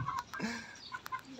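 A chicken, a 45-day-old bird being carried, gives a few faint, soft clucks in quick succession over a quiet outdoor background.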